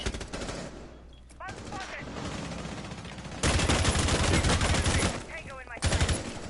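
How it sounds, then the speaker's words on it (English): Repeated gunshots in a competitive shooter match as a player tries to shoot through a wall, with rapid automatic bursts that grow loudest midway, while a commentator talks over the action. "Trying to go for the wall bang, missed."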